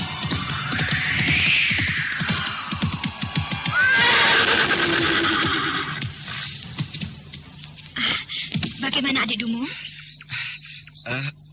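A horse neighs and whinnies over rain and background sound, with a person speaking partway through.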